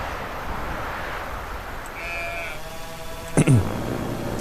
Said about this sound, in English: I hear a sheep, guys.